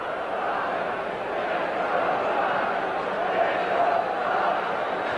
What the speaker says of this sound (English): They got a chant here.